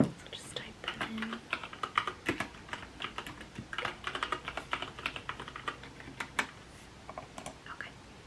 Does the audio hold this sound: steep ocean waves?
no